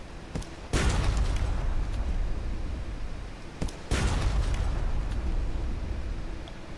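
Cannon fire from an enemy ship in the naval game Sunless Sea, two heavy booming blasts a few seconds apart, each followed by a long rumbling roar, loud and without talk.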